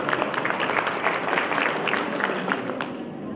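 An audience at a teachers' symposium applauds to welcome a panelist to the platform, steady crowd clapping that fills the room at a fairly loud level throughout, with a voice faintly underneath.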